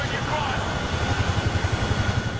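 Helicopter in the Medal of Honor video game, a steady rotor thump beating in a fast regular pulse, loud and continuous throughout, over a constant engine whine and background hum.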